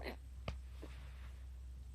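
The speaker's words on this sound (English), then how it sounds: "I have the hiccups" A single sharp hiccup from a person lands near the middle of a quiet indoor moment, brief and close, followed by a fainter second catch of breath.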